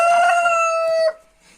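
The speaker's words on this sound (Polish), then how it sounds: "Tutaj mamy część kurczaków z inkubatora." A rooster crows loud and close in a single drawn-out call near incubator-hatched chickens on a farm, trailing off into faint clucking afterward.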